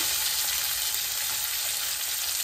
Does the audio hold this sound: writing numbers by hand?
no